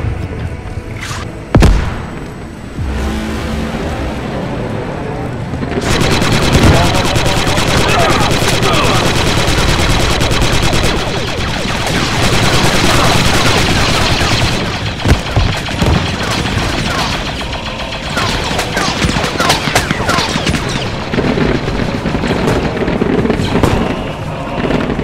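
Dense, loud automatic gunfire in a Star Wars squad shooter, rapid bursts overlapping almost continuously with booms and crashes, with a voice briefly audible over the shooting.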